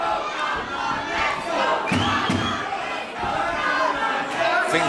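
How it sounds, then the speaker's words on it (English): Wrestling arena crowd in full voice backing Cem Kaplan during a match, a dense, continuous roar of cheers and shouts that swells and dips, with a commentator's voice faintly woven in. "Crowd support here for Cem Kaplan, as you can hear."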